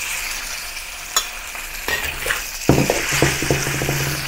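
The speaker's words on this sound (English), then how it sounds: "Once the oil is heated, add the marinated beef." Marinated beef hits hot vegetable oil in a wok, a few light clinks giving way to a sudden loud burst of sizzling that keeps crackling and spitting close by.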